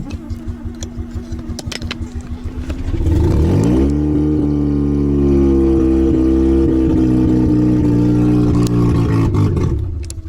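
A turbocharged Mazda 12A rotary engine with a blow-through carburetor runs rough up close, first a loud, lumpy, sputtering idle, then a sustained raspy rev held for several seconds before easing off.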